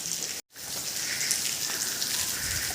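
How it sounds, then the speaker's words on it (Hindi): Constant rain patters and hisses on surfaces close by, briefly cut out for an instant near the start before resuming. "बारिश कई दिन से लगातार चली रही है यहाँ पे।"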